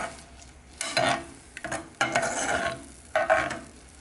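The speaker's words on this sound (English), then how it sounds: "So stir away, stir away." A thickening lemon mixture stirred in a pot, uneven scraping strokes in bursts with soft bubbling between them, close and moderately loud, no voices.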